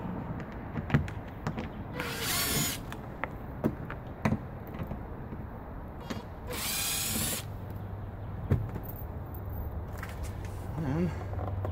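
Two short whirring bursts of a power tool backing screws out of a Lexus GX470 door panel, with someone talking over steady background noise and small clicks and taps between runs.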